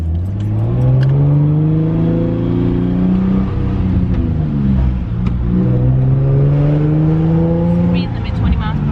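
A modified Nissan 350Z engine revs hard during a ride-along, its loud growl rising and falling through repeated pulls, heard from inside the car.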